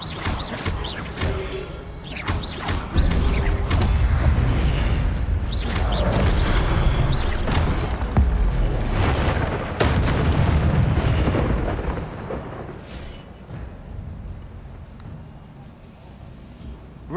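A fire spell cast in the Hogwarts Legacy video game bursts with a loud, roaring whoosh and booming crackle, swelling and then fading over several seconds with no talking.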